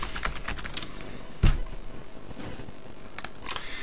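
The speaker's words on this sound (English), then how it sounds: "let's just type in the word," Quick bursts of typing on a computer keyboard for a Google search, with a light clatter of separate keystrokes and short pauses between runs, close and fairly quiet with no voices.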